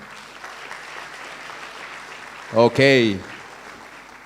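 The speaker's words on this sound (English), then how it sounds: "A round of applause again." A graduation ceremony audience breaks into a short, dense burst of clapping lasting about a second, after a long quiet stretch. A voice speaks briefly over the clapping.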